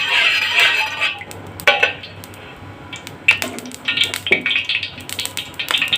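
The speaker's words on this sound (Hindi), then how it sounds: "बैंगन हमने डाल दिए" Pieces of eggplant go into hot ghee in a pan, giving soft crackly hissing bursts mixed with nearby clinks and clatter of utensils, with no speech.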